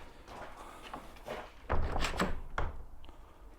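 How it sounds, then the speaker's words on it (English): A shed or garage door swings shut with a dull thunk and a couple of knocking bumps after some shuffling, close and fairly loud in a quiet room. "even if I close the door"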